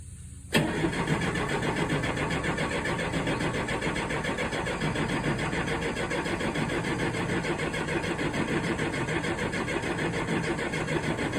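A 1967 Allis-Chalmers HD-4 crawler loader diesel engine, long sitting and being revived, cranks and catches abruptly, then runs steadily and loud for about ten seconds with a dense, continuous clatter and no speech.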